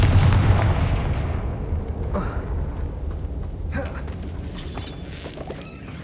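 The Confringo spell bursts in the Hogwarts Legacy video game: a loud, deep explosive boom at the start that rumbles and decays, followed by scattered crackling debris hits.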